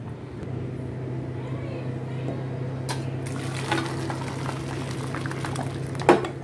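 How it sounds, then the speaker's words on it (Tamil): Partly cooked biryani rice poured into a strainer, hot water rushing and bubbling through in a steady, loud wash, with a low hum underneath and a sharper splash near the end. "இந்த மாதிரி ஒரு ஸ்ட்ரெயினரில் வந்து நீங்கள் அப்படியே ஃபில்டர் பண்ணிக்கோங்க."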